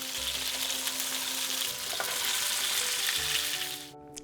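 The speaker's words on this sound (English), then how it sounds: "Can you still hear it sizzle?" Salmon fillet sears in a hot pan, giving a steady, close, crackling sizzle that holds evenly for several seconds before cutting off abruptly at the end.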